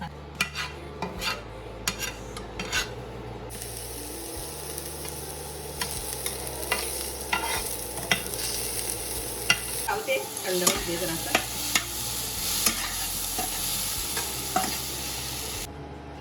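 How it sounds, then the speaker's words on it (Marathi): Onion, tomato and coconut roasting in a pan, with a spatula stirring and scraping in an irregular rhythm over a soft steady sizzle, close by and without talk. "कांदा टॅमॅटो आणि खोबरं थोडस भाजून घेतले"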